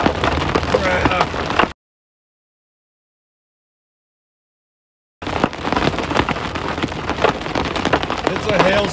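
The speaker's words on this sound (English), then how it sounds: "It's a hailstorm." Hail drums hard and densely on an RV transport vehicle during a storm, a loud continuous pelting broken by a brief silent gap, with people talking over it.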